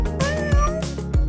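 A cat gives a brief, loud, close meow over background music, with no talking.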